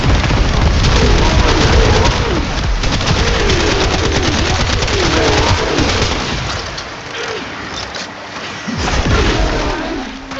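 Weapon fire in the video game Warframe with a Hydroid build, dense rapid loud shots and booms over a busy game soundscape, easing briefly near the end.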